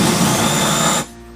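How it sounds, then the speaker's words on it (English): A drill bores repeatable holes through a woodworking drill guide, a loud steady whirring grind that cuts off abruptly near the end, leaving only a faint hum. "start your repeatable drilling"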